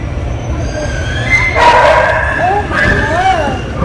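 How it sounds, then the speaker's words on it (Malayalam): Dogs yip and whine in short, rising cries near a ship terminal as passengers disembark after sailing from Tasmania, fairly close over a steady low background rumble. "പട്ടികളൊക്കെ കരയുന്നുണ്ട്."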